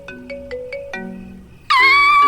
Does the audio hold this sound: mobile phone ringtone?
yes